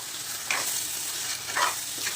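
Small crabs fry in oil with masala in a pan, giving a steady soft sizzle broken by a few scraping stirs, close by and moderately quiet.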